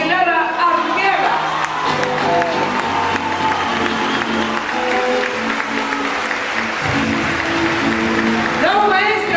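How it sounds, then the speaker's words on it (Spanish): Loud, sustained audience applause fills a theater during an awards ceremony at Teatro Segura in Peru, with scattered shouts and cheers rising from the crowd throughout. "Fuerte el aplauso, que sigan las palmas para él, merecidas."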